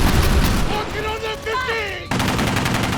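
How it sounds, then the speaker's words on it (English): A dense roar of gunfire fills a firefight in an action spy series, a battle that begins with a suicide bombing; it is loud and continuous, with a voice rising over it in the middle. "자폭 테러를 시작으로 벌어진 교전"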